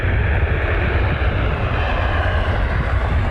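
A United airliner bound for Houston roars at Cleveland Hopkins airport, its engine noise a loud, steady broadband rumble that holds without a break, with no voices.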